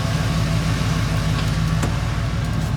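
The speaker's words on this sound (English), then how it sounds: "I can already tell we're idling better in gear than we were before." A 1990 Ford F150 pickup engine idles in gear with a steady low rumble and even pulsing rhythm, close and continuous with no talking.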